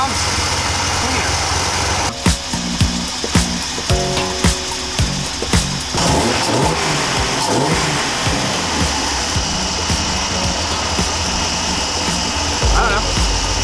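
A Mazda RX-7 engine runs smoothly and revs, with a string of short sharp bursts over a steady rumble, close and fairly loud, and voices talking now and then.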